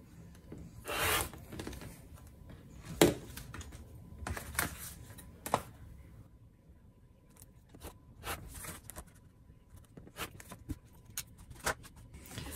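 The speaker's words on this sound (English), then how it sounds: "trimming an 1/8 of an inch away from the outer margin. And I like to use a rotary cutter." A rotary cutter trims fabric around an embroidered appliqué, making short, close, crisp swipes and rubs, scattered irregularly over a quiet background.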